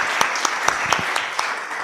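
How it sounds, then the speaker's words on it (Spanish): An audience in an art history talk show applauds a volunteer, a steady wash of many hands clapping with a few louder distinct claps, close and fairly loud. "Muy bien, un aplauso para el valiente,"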